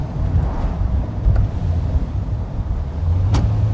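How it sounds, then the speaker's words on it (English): A 1979 Volkswagen Super Beetle Cabriolet with new tires and an adjusted clutch driving on the road, heard as a steady low engine and road rumble mixed with wind buffeting, continuous and fairly loud. "Car really drives well, feels good, good steering."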